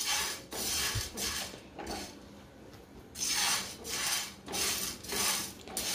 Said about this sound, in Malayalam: ഇളക്കി കൊടുക്കുക കേട്ടോ.